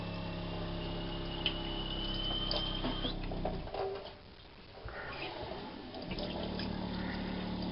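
Water runs from a tap in a NuWa travel trailer, a steady close rushing flow that briefly drops off in the middle and then resumes, with faint clinks and no talking.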